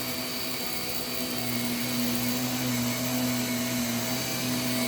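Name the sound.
vacuum cleaner cleaning the floor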